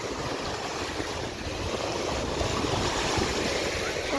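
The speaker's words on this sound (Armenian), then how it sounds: "Նայեք ինչ ալիքներ են" Waves wash against a sandy lake shore near a forest, a steady rushing surf mixed with wind buffeting the microphone, continuous and fairly close.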